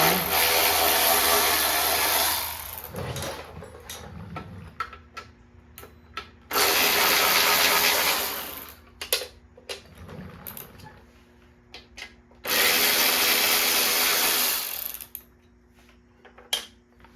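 Power tool spinning out the 3/8 bolts holding a lawn mower's top cover, in three loud sustained bursts of a couple of seconds each, separated by quieter clicks, clunks and handling noises.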